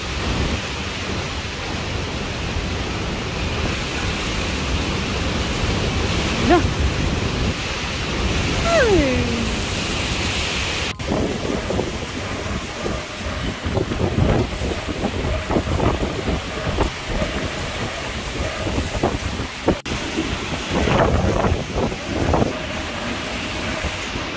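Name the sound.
strong typhoon wind by the sea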